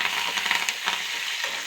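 Curry leaves crackle and sizzle in hot oil with lightly browned garlic over a low flame, a steady bright spitting hiss with a few sharper pops, close and continuous with no talking.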